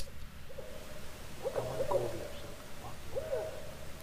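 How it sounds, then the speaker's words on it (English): Two barred owls hooting at night, a couple of distant hoot phrases spaced apart over low steady background noise. "We can hear there's two of them making these sounds."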